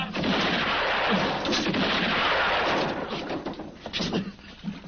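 Gunfire in a western film, a loud broadband blast that fills the start and lingers as a long echoing rumble before fading.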